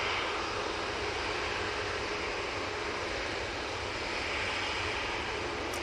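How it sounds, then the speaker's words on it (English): Engine roar from a Ryanair jet rolling out at Manchester Airport carries on as a dense, steady broadband rush at fairly close range for several seconds, with no speech. "Ryanair, just rolling out."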